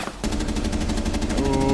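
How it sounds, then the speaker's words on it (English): Rapid automatic gunfire in the Rainbow Six Siege shooter game, a loud, close burst of evenly spaced shots running without pause for over a second. "Lot of gunfire happening with no time"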